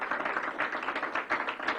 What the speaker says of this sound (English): I want to thank you and give you a special round of applause